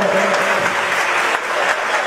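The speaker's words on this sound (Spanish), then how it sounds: "Muy bien, aplausos." Steady applause from an audience at an outdoor inauguration ceremony for new plinths and a stage in San Jacinto de Iñán, dense and even throughout, with no voices standing out.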